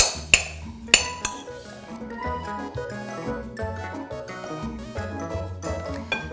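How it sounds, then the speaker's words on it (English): A metal spoon breaks up cooked basmati rice in a glass bowl, giving a few sharp clinks early on over steady background music. "just with my spoon here, breaking up that cooked rice"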